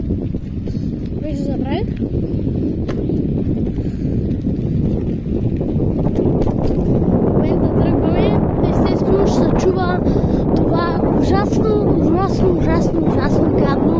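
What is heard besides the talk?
strong wind blowing into the microphone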